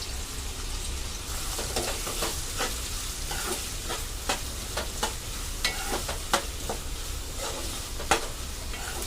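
Onions stir-fry in a kadai for chicken keema: a continuous close sizzle broken by repeated spatula scrapes and clinks at irregular intervals, without speech.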